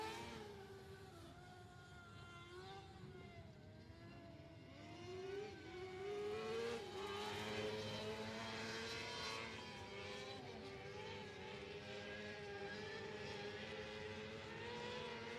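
Race cars at 105 Speedway on Halloween night scream past, engines rising and falling as they stay flat out through a corner, a loud continuous roar with shifting pitch.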